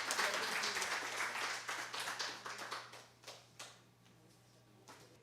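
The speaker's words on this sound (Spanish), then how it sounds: "el público la recibe con un aplauso" An audience at a literary lecture welcomes a speaker with applause that starts full, then thins into scattered individual claps and fades to near quiet.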